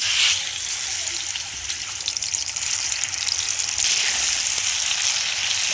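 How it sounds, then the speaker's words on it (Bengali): Prawns coated in salt and turmeric fry in oil in a kadai, giving a steady, close, crackling sizzle that runs throughout with no one talking. "তো কড়াতে তেল দিয়ে দিচ্ছি, স্বাদ মতো নুন দিয়ে দিলাম, দিয়ে নুন হলুদ মাখিয়ে নিচ্ছি আমি। মাছগুলো আমি ভেজে নেব।"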